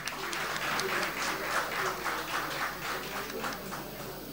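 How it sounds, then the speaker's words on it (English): Conference attendees applaud themselves for their work, a sustained, even patter of many hands clapping heard at moderate distance throughout. "let's give ourselves a round of applause for the work that was done."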